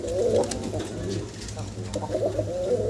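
A fancy pigeon at a breeding farm coos in repeated low, throaty rolls close by, with people talking softly underneath.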